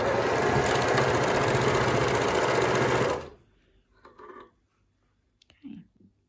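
A sewing machine stitches a neckband onto a t-shirt, running in one steady fast whirring burst for about three seconds and then stopping, followed by a few faint handling clicks and rustles.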